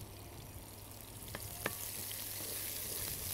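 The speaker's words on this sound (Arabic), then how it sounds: "شوحهم كده تشويحه خفيفه" Crabs stir-fried in a pan with whole chili peppers, giving a steady, moderately close sizzle with a few sharp crackles and a faint stirring scrape, no voices.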